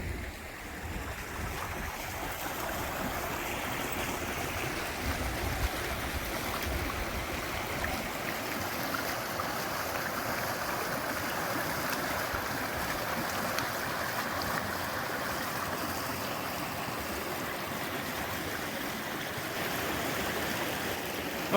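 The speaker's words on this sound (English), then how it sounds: "And there's a fantastic creek flowing right by." A creek in Routt National Forest flows right alongside, giving a continuous, even rush of water with no talking.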